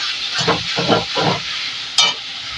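Spice paste fries in hot oil in a pan for a river tengra fish curry, giving a close, loud hiss that swells in short stirring bursts with a sharper sizzle flaring near the end.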